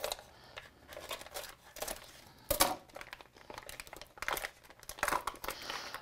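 Shrink-wrapped rockfish fillets being cut free of tight plastic packaging, with repeated close crinkling, tearing and snipping bursts spread irregularly over several seconds, no talking.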